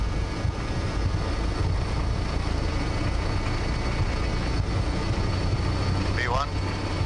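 Jet engines of a BAe 146-300 airliner at takeoff thrust, heard from inside as a steady, loud broadband roar with low rumble throughout the takeoff roll; cockpit speech is faintly present.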